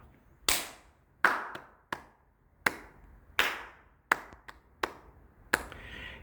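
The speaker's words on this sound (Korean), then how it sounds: "반주 없이 박수로만 쳐서 불러보도록 하겠습니다" Single hands clap a slow, steady beat for a children's song with no accompaniment, about ten crisp, separate claps with short ringing tails in a quiet room.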